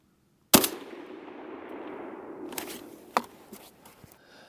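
A single loud StG-44 Sturmgewehr assault rifle shot fired outdoors at a 300-yard target, a sharp crack followed by a long rolling echo and a faint distant impact report about two and a half seconds later.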